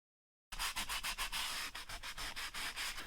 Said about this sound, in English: Okay, so I've just sanded it up.